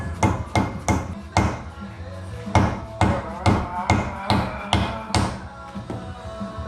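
Repeated hammer blows drive a drilled and slotted brake rotor into place on a Foxbody Mustang, about a dozen loud metallic whacks at a steady, slightly uneven rhythm, close up with no talking.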